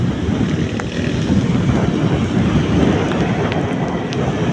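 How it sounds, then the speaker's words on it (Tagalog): Strong wind roars steadily and loudly, buffeting the microphone with a constant low rumble and no breaks. "malakas na yung hangin let's go malakas na yung hangin"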